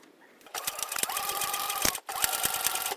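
A sewing machine stitches a bag side panel, running in close, rapid whirring bursts with a brief stop partway through.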